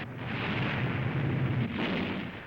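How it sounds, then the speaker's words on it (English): Explosions aboard the US aircraft carrier Franklin in a WWII newsreel make a dense, continuous roar of blasts. The rumble stays loud and unbroken for a couple of seconds, then tails off. "The Franklin was rocked by a series of explosions."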